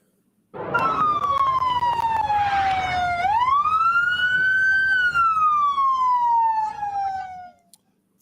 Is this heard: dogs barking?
no